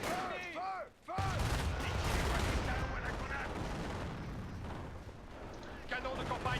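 Field gun artillery fire in the Company of Heroes video game, booming shots and blasts rolling under game voices and a player talking over the combat.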